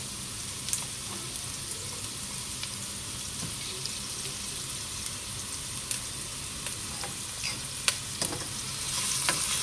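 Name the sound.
stirring pasta salad with salt and pepper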